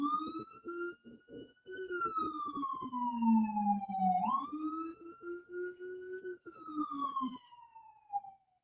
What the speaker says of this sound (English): Was that an ambulance?